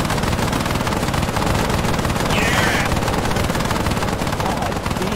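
Sustained automatic gunfire in the Arma III video game fills the clip, a dense, loud, continuous rattle of rapid shots with no pauses, heard without talking.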